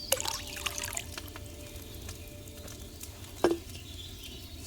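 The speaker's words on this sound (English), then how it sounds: "First, you have to pour the right base into the cauldron." Wine trickles and patters into a cauldron in the medieval game Kingdom Come Deliverance 2, a faint, thin pouring stream with a sharper splash at the start and a clink midway.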